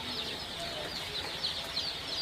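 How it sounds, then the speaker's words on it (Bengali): Sonali super hybrid chicks in a brooder, a continuous chorus of high peeping and cheeping from many birds, close and steady with brief louder chirps. "আমার সোনালি সুপার হাইব্রিড মুরগির বাচ্চাগুলো আসলে বোর্ডিংয়ে ছাড়ার পরে কেমন দেখা যাইতেছে।"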